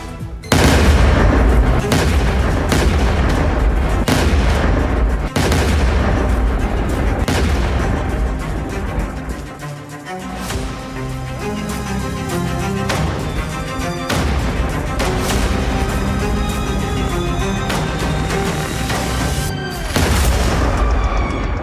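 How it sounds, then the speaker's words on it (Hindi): Explosions from US and Israeli strikes hit an Iranian military base at Bushehr. Loud, dense booms and crackling blasts follow one another without pause for over twenty seconds. "अमेरिका और इजराइल के बारूदी हमले बुशहर में ईरान के सैन्य अड्डे पर हुए"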